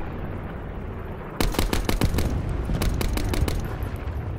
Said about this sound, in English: we gotta win this gunfight